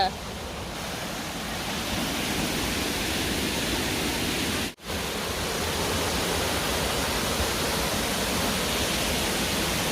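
The Tauplitz waterfall roars as a dense, continuous wash of falling water, loud and steady throughout with only one brief dip.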